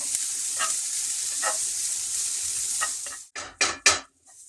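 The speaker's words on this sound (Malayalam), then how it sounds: "നല്ലപോലെ ഒന്ന് വഴറ്റിയെടുക്കണേ." Onions, green chilli and curry leaves sautéing in a pan, a steady close sizzle broken by a few scraping stirs toward the end, with no talking.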